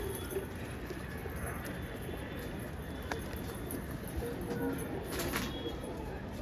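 Patiala pigeons coo softly and steadily, the low murmuring calls blending into a constant hiss of background noise with no talk.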